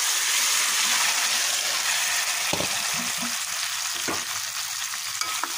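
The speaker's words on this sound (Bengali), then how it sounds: "এখন এর ভিতরে সিদ্ধ করা সবজিটা ঢেলে দেবো।" Boiled vegetables, ridge gourd with katoa data stalks, are tipped into onion and garlic already fried brown. A dense sizzle runs throughout, broken by a couple of dull splashing thumps and stirring.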